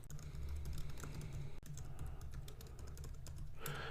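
Steady, close typing on a computer keyboard, a continuous patter of key clicks with a brief pause in the middle and a sharper burst near the end, no talking.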